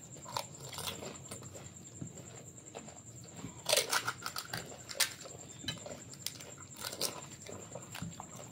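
Biting and chewing fuchka with chili during a husband-and-wife eating challenge, giving a few sharp crunchy bites near 4, 5 and 7 seconds over a low chewing and room murmur, with no clear talk.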